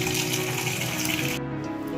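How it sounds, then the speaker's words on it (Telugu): Tap water runs steadily into a bowl of cut broccoli florets being washed, a close, loud continuous splash that cuts off abruptly near the end. "దీంట్లో తీసుకొని ఫస్ట్ వాష్ చేసుకుంటా."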